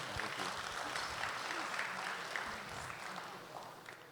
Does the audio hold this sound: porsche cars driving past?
no